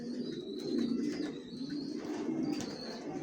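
Racing pigeon chicks coo softly and repeatedly at close range, low throaty burbling with a faint high whistle above it.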